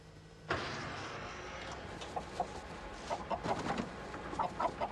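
Live chickens clucking on a farm, a steady busy chorus of clucks and short calls over continuous background noise from the yard.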